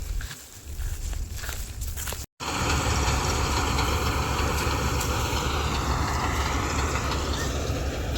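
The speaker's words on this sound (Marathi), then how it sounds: "मिशन ते पलीकडे चालू आहे." A wheat harvesting machine runs in a field, a loud continuous engine drone with steady broadband mechanical noise that holds throughout apart from a brief dropout, with a lighter rustling, footstep-like texture at the start.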